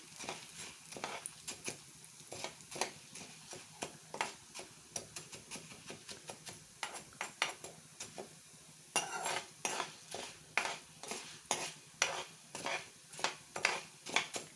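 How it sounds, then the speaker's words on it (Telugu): Urad dal roasting in a pan for kottimeera pachadi, stirred with a utensil that scrapes and clinks against the pan in quick, rhythmic strokes over a faint sizzle, close and fairly quiet. "మినపప్పు బాగా వేగుతుంది"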